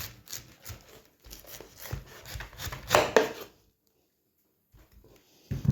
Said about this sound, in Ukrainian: Ось прямо з оцим качаном, отак беру і нарізаю, щоб вони трималися